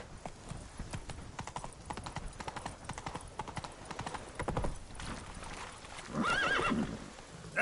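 In The Witcher game, the horse Roach trots with rhythmic hoof clip-clops, then lets out a loud whinny near the end.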